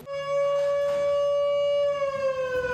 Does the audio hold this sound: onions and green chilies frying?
no